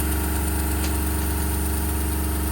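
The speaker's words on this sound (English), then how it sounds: "sorry about the compressor" An air compressor runs at low pressure beside a small V-twin oscillating steam engine, giving a steady, droning mechanical hum with a constant low throb, close by and unbroken.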